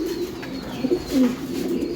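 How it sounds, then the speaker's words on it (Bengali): A racing pigeon coos softly nearby, a few low throaty murmurs over faint background hiss, with no talk. "এটাও দুই হাজার তেইশের কবুতর"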